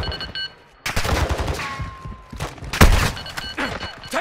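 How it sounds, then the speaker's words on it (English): Gunfire in Call of Duty DMZ bursts loud and close in rapid automatic volleys and sharp single shots, with heavy thumping impacts between quieter gaps. "Taking effective fire!"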